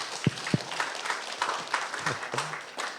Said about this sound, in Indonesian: tepuk tangan buat Pak Ismail.